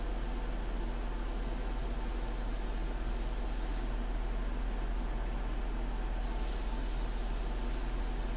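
An airbrush sprays India ink in a steady, loud hiss with a constant low hum beneath it, the spray's brightness dipping briefly midway before resuming.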